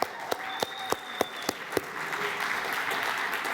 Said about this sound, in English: All of you are clapping but jealous inside, I know.